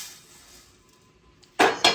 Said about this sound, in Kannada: ಇದನ್ನೊಂದೀಗ ಸಪ್ರೇಟ್ ಪ್ಲೇಟಿಗೆ ಹಾಕಬೇಕು.